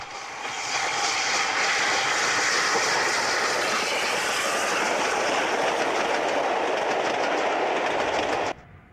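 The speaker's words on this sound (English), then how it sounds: "At the head of a heavy southbound mail service, A2 Pacific A.H. Peppercorn takes the route for Stirling." A2 Pacific Peppercorn steam locomotive hauling a heavy southbound mail train toward Stirling, a loud sustained roar and rumble with rapid rhythmic beats that builds, holds and then cuts off abruptly near the end.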